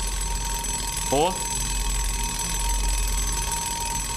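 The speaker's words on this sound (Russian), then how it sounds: "Будильник." A brief alarm clock ring in the horror video game Beside Myself sounds as a short harmonic burst over a steady background hum, and a voice gives a quick exclamation.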